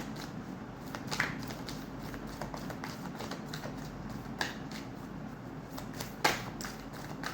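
Tarot cards being handled and shuffled, soft rustling and light papery taps with a few sharper clicks, close and quiet against a steady low room hum.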